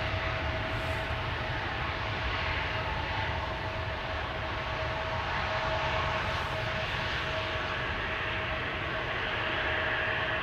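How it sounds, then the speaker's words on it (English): An Embraer 195 jet engine spools up at Amsterdam Schiphol Airport, roaring steadily with a sustained whining tone riding over the broad rumble, heard from some distance, no voices. "The whale sounds indicating spooling up of the engine."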